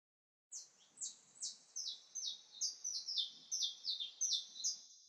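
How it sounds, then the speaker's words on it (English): Saffron finches giving a rapid series of about a dozen high, thin chirps in a steady rhythm, fairly clear and close against a quiet outdoor background with no talking. "A couple of little saffron finches right over there, side by side."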